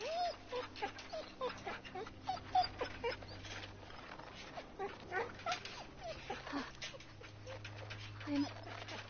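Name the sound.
dog whimpering in The Walking Dead video game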